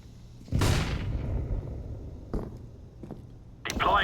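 A flashbang grenade goes off in Warzone with a loud, sharp bang that decays over about a second, followed by a few thuds and clanks and a burst of noise at the end, with no voices.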